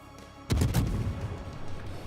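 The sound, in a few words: cruiser gunfire in World of Warships video game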